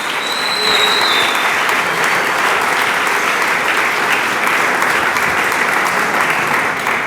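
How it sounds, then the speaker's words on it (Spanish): A church congregation claps loudly and steadily for the full stretch, a dense continuous wash of applause with a faint voice at the very start. "Dele palmas al Señor"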